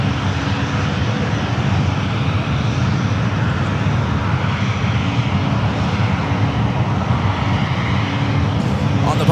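Dense steady jet roar from airliners arriving on the 28 runways at San Francisco airport, a continuous loud wash of engine noise with traffic-like rumble underneath.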